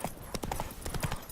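Horse hooves clip-clopping in The Witcher, a rapid, steady run of close hoofbeats with a brief whinny, heard alone.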